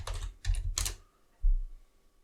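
A computer keyboard clatters with short bursts of keystrokes, a few quick taps in clusters then a pause and one more press, close and fairly quiet, as a password is entered at a Debian desktop login.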